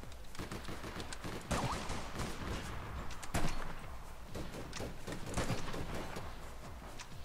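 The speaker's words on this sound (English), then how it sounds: "Where am I getting shot from?" Continuous gunfire in the video game APB Reloaded: a dense, crackling fusillade of rapid shots with several louder bursts, steady and fairly close throughout, with no talk.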